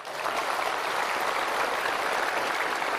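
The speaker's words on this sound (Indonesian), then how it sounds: "Si Kabayan. Tepuk tangan." Studio audience at a television talk show breaking into steady, dense applause that fills the whole stretch at an even, fairly loud level with no voices over it.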